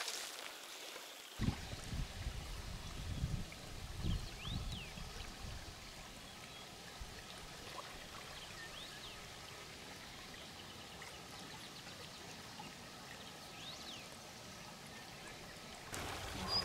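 A forest stream knee-deep in the woods flows with a steady, soft rushing and trickling, continuous and moderately close, with a few faint bird calls over the water.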